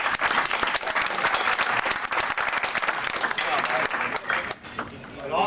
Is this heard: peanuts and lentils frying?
no